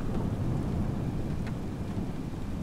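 A thunderstorm in Microsoft Flight Simulator over Crooked Island sounds as a continuous low rumble with steady rain-like hiss, even and moderately loud throughout.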